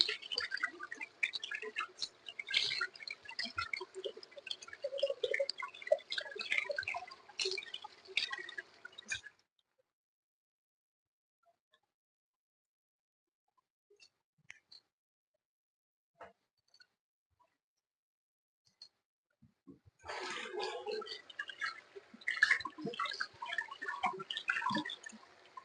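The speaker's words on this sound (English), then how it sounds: "head back over to the zinc, baby, and wash my hands" Tap water runs into a kitchen sink during hand washing, a steady spattering hiss for about nine seconds, then near silence with faint ticks before the running water resumes.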